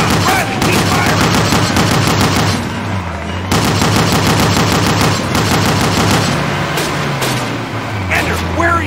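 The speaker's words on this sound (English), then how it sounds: "Riley, keep firing!" Dense rapid gunfire rattles almost nonstop in a World War II Call of Duty battle at Bastogne, Belgium, bursts of automatic weapons layered close and loud with shouted voices mixed under the firing.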